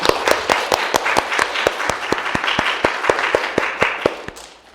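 Audience applause at a children's council policy presentation in Changwon, a dense round of close, loud rhythmic clapping that continues steadily and then fades out at the end.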